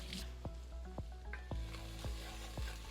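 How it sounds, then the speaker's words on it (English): Onions and peppers sizzling in a pan for chili, a low, quiet sizzle under a steady hum, with a spoon scraping and tapping in a regular rhythm of about six strokes, no speech. "give my onions and peppers another stir"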